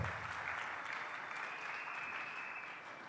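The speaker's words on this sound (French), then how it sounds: "Acclamons à présent très fort la parole" A church congregation applauds loudly and steadily throughout, a dense wash of many hands clapping at once, with no break.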